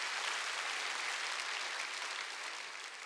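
Dense, sustained applause from a large church congregation during a Sunday worship service, steady throughout and tapering slightly toward the end.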